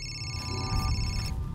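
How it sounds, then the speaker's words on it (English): A cheap, royalty-free phone ringtone goes off in a horror film, sounding as a bright, steady electronic tone pattern over low background rumble, alone and without speech. "interrupted by her really shit royalty-free ringtone going off."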